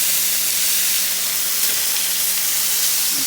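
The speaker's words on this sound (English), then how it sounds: "I'm going to flip them over. You want them to be pretty seared." Food sears in a hot pan with coconut oil and lemon juice, just flipped, giving a loud, steady, dense sizzle that hisses without a break.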